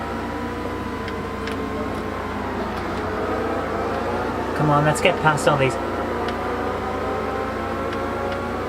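Car engine in the racing video game Forza Motorsport on Xbox, a steady droning hum with a short burst of rising revs in the middle, heard under someone talking.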